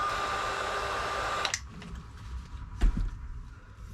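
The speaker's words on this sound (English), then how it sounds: "And then just heat it up, and you should see a wrap around the cable and also the crimp." A heat gun blows steadily while shrinking heat-shrink tubing over a cable crimp during a camper van electrical install, a close airy roar that cuts out partway through, followed by a few small clicks and handling sounds.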